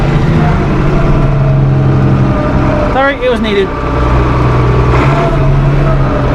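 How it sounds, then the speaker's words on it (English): Tractor engine runs close by with a steady, loud, low rumble that holds throughout, while someone talks over it. "Got the tractor running."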